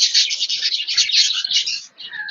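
Budgerigars in a rooftop cage chatter and chirp continuously, a dense, close, fairly loud warbling that dips briefly before resuming, with no voices.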